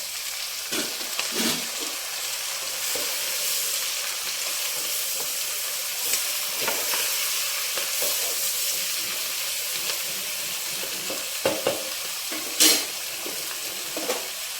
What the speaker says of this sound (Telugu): టమాటో కూడా వేసేద్దామండి.